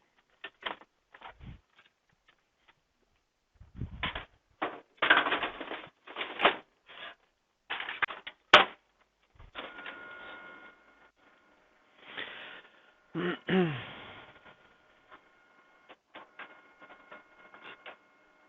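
A printer feeds and prints pages in bursts of mechanical whirring, clicking and rattling, with short pauses between passes; the sound is close and clear, and no one speaks.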